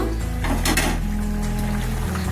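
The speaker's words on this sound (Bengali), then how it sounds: "আমার রান্নাটা হয়ে গেছে, এখন আমি ঢেলে নিব।" Cooked food slides and scrapes out of a pan, with metal rattling against cookware in a steady, close, continuous clatter.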